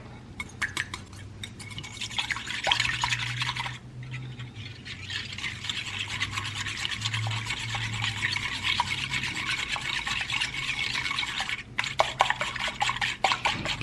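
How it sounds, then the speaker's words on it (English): An egg is whisked briskly in a bowl for a chicken cordon bleu dinner, a steady scraping, clinking rhythm that runs almost continuously with two short pauses, close and moderately loud, with a low hum underneath. "And whisk it."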